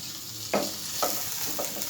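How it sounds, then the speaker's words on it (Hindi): Oil sizzles faintly in a pan as thinly sliced chicken fries for a Chinese omelette, a soft steady hiss broken by three light stirring scrapes about half a second apart. "1 टेबलस्पून ऑयल का ऐड कर रहा हूँ।"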